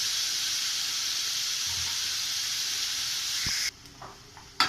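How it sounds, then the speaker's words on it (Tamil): Tomatoes sautéing in a pan for spinach dal, a steady loud sizzling hiss that cuts off near the end, followed by a few light stirring clinks. "இது நல்லா கொஞ்சம் வதங்க விடுவோம் தக்காளியை"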